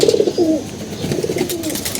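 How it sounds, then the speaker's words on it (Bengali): A pigeon at a loft gives low, throaty coos nearby, with one clear bubbling call and then softer, drawn-out cooing that follows. "এই যে একটা কবুতর আসছে নতুন"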